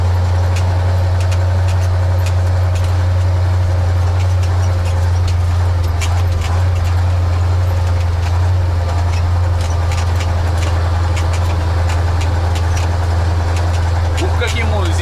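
A driverless KrAZ 255 truck creeping along at about 10 km/h, its heavy diesel engine giving a constant low rumble under outdoor ambience with occasional clicks and knocks.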